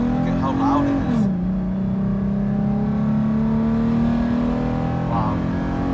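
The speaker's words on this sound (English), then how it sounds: "when I hit the gas pedal, look at how loud it is." A Toyota 4Runner engine fitted with a TRD cold air intake revs up and then settles into a loud, steady drone with a throaty intake note, heard close up.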